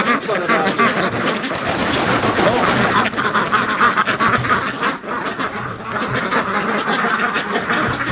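Ducks crowd around kiddie pools on a frozen lake in winter, a dense, loud chorus of quacking and honking close by that goes on without pause.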